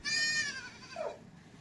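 A goat on a farm gives one close, loud, wavering bleat, followed by a softer short call as the sound trails off.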